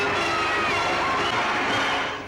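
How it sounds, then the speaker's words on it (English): A large crowd of football fans cheering a trophy, a dense, continuous roar of voices at steady high volume that fades slightly at the end. "The vast throng of football fans fairly let themselves go, cheering Bill's famous prize in the soccer world."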